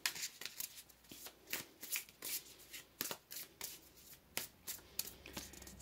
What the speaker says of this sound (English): So let's pull another card here.